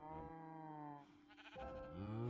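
Minecraft sheep bleating in the game, a couple of wavering, nasal bleats in succession, fairly faint and heard without talk.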